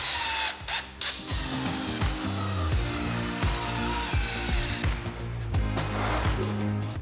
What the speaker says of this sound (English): We're just gonna put some screws in.